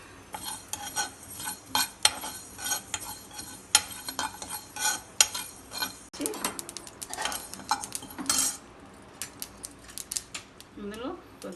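Sesame seeds are stirred and roasted in a pan while a spoon scrapes and clinks against the metal in irregular bursts, with light sizzling mixed in toward the end.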